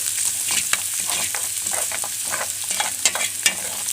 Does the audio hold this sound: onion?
yes